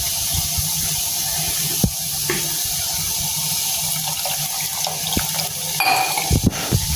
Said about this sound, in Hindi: इसमें मैं थोड़ा सा पानी ऐड करके इसको अच्छी तरह से साफ़ कर लेती हूँ